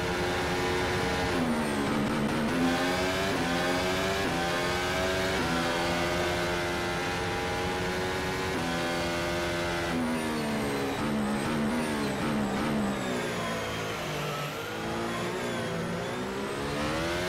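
Formula race car engine in a sim racing game at Suzuka, Japan, revving hard and steadily with rising and falling gear-shift sweeps, loud and continuous with no talk.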